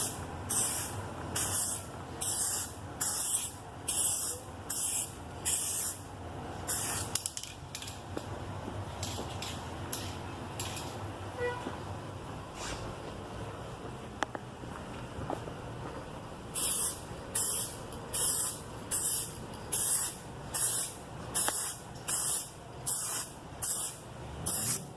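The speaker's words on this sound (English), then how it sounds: "Once it's smooth, you spray." Aerosol coating sprayed onto a taped, sanded car headlight during restoration, heard as repeated short hissing bursts in a steady rhythm, a pause in the middle, then another run of quick close spray bursts.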